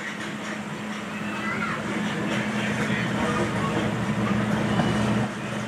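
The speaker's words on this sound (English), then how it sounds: "Just gonna get a nice view of the train pulling in." Low rumbling of a zoo train rolling into its station at Potawatomi Zoo, South Bend, Indiana, with a steady engine drone and rising mechanical noise building over several seconds.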